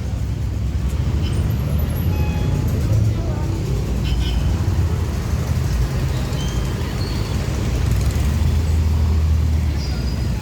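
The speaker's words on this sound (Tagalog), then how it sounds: "Traffic guys, traffic!" Busy road traffic in the rain, with cars, buses and trucks idling and rolling past in a steady, close rumble; people talk throughout.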